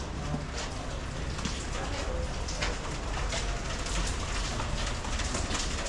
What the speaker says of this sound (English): you kind of hear all the rain, the things falling down too